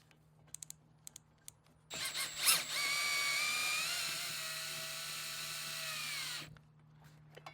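A power tool with a 10 mm socket runs down the bolts of an overland roof rack on a Chevrolet Avalanche in one steady whirring burst of about four seconds. A few faint clicks come before it.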